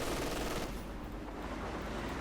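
MG42 machine gun fire in the Company of Heroes 2 video game, a dense, continuous rattle of rapid shots that stays loud for the whole short stretch, with no voices over it.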